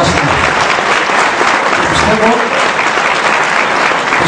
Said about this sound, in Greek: Δώστε λοιπόν ένα χειροκρότημα σε αυτά τα παιδιά που φέρνουν κοντά μας